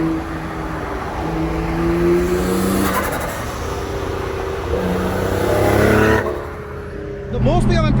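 A tuned 570 hp twin-turbo Nissan G35 coupe on its stock motor drones and revs while driving, engine note rising and falling under continuous conversation inside the car, with a brief lift-off near the end.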